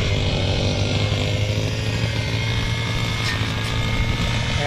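A grass cutter runs steadily while clearing weeds on a hillside intercropping farm, its engine drone loud, close and continuous without a break.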